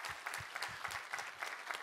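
A church congregation claps together in praise after a Korean Bible reading, a steady dense burst of hand claps filling the room, moderately loud and without any voices over it.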